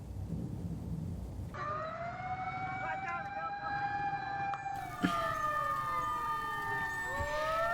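Wailing siren from fire engines responding to a kiosk fire on a street in Garut, its pitch sweeping up and down loudly and steadily over background street noise, with a second siren overlapping later.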